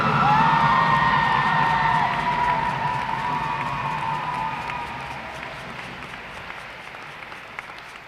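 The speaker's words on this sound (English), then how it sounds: "Let's have a final round of applause for our new inductees." A crowd applauds and cheers for school sports hall-of-fame inductees, with steady clapping and a few whoops that gradually fade over several seconds.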